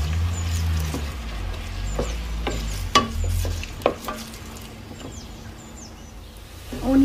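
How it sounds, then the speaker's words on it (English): Onions cooking in a pan toward golden brown for Sindhi biryani: a low, steady sizzle broken by scraping stirs and several sharp clicks of a utensil against the pan, close and moderately loud, no voices. "And we'll cook the onion until it's golden brown."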